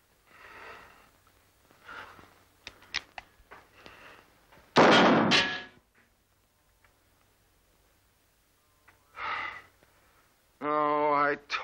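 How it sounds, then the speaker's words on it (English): A single loud gunshot fired at a target, one sharp close blast surrounded by scattered rustling and a few brief noises, with speech-like sounds before and after. "Now fire that gun."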